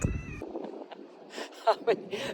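A cat gives a couple of short, close meows near the end, after a brief burst of other noise at the start, and a person speaks softly around them.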